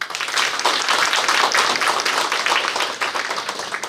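Applause for a scholarship recipient at a Hmong Service Center awards event in Oshkosh, Wisconsin: a steady, dense round of clapping from a crowd that holds for several seconds without talk.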